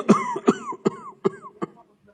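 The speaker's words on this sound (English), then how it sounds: "I had a bout of cough" A man coughs in a bout of five harsh, close coughs, spaced roughly every half second and fading slightly toward the end, followed by a short quiet breath.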